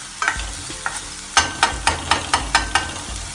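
Vegetables salted and stirred in a hot frying pan for Schezwan fried rice: a run of about eight sharp, evenly spaced scraping strokes of the spatula against the pan, close and fairly loud, over a soft sizzle.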